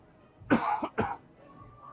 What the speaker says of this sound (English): If I cough again